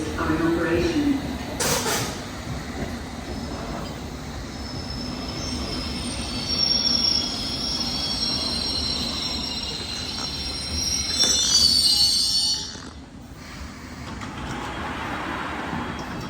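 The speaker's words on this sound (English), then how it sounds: "I am at Hammersmith station here to be train spotting for London's newest deep level tube line." A 2024 stock Piccadilly line tube train at Hammersmith station, a loud close rumble with high wheel squeal and station noise, overlaid by a platform announcement.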